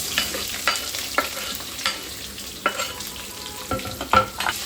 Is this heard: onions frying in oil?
yes